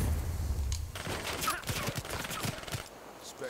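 Gunfire from a team deathmatch in the video game Black Ops 3 sounds as a dense, continuous fusillade of shots with rumbling low end, loud and steady throughout.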